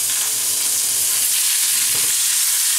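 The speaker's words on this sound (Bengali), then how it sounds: "ফুলকপিটা আমি বেশ সুন্দর করে ভাজবো" Cauliflower pieces fry with turmeric in hot oil in a pan, a loud, close, continuous sizzle with hissing, alone and with no talking.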